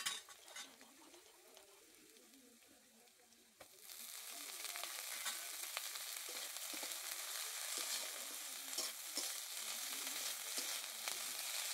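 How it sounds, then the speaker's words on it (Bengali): Bottle gourd leaves hit hot oil with garlic and black cumin, and a quiet pan gives way to a sudden, steady loud sizzle that continues with occasional clinks of a utensil against the pan. "রসুন আর কালো জিরেটাকে হালকা নেড়ে লাউ পাতাগুলো দিয়ে দিতে হবে।"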